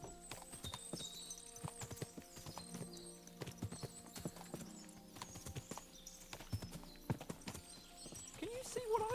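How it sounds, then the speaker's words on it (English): Horses in Kingdom Come: Deliverance 2, a busy stream of hoof clip-clops at uneven rhythm with occasional whinnies, steady at moderate level and growing slightly louder toward the end. "What a lot of horses!"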